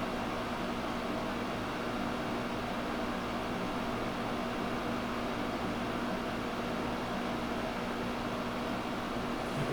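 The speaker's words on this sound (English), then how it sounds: "Yep, it's an air conditioner. It just sits here and cools your air." A GE 5000 BTU window air conditioner runs on high, giving a steady, loud whooshing roar with a constant low hum that never changes.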